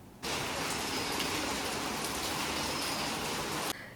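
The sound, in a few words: heavy torrential rain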